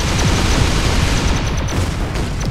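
Dense, rumbling barrage of weapon fire in the artillery game ShellShock Live: a steady wash of booming noise with low thuds running throughout, loud and continuous with no clear gaps.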